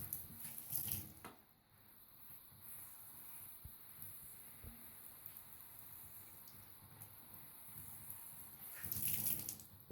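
Water runs steadily from a temporary campervan shower, a soft continuous spray with slightly louder gushes at the start and end, heard alone without talk.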